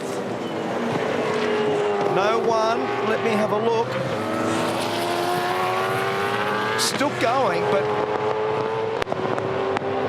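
Supercars race cars lapping a circuit in a practice session, engines droning steadily with gear changes and pitch sweeps as cars pass, under continuous commentary voices.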